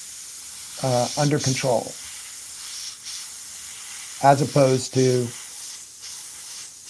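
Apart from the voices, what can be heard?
airbrush spraying paint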